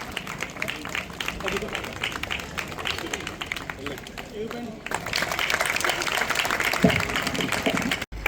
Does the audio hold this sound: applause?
yes